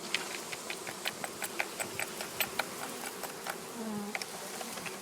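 A mass of bees buzzes close up as the swarm arrives in a garden, a dense continuous hum broken by repeated light ticks and taps from insects hitting the box.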